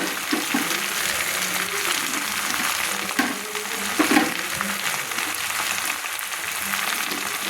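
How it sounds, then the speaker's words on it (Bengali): Spinach stirred and fried in a wok, giving a dense, steady sizzle at close range with occasional soft scraping and shuffling of the greens throughout. "দিয়ে আমি দেখুন পালং শাকগুলো কী সুন্দর আমি নেড়ে নিচ্ছি"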